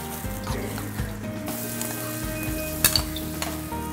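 Chopped garlic and chili frying in ghee in a pan, a steady close sizzle with light stirring scrapes and a few utensil clinks, no talk.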